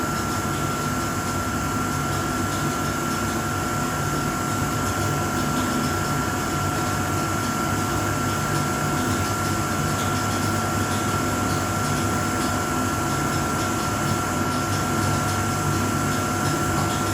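A 500L vacuum emulsifying mixer runs with its vacuum function on, giving a steady, loud mechanical drone with a constant pump-like hum and tonal whine that holds unchanged throughout, with no talk.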